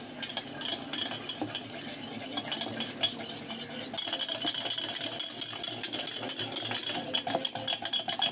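Pancake batter being stirred in a bowl: a steady, close scraping and swishing with light utensil clatter, continuing without pause throughout.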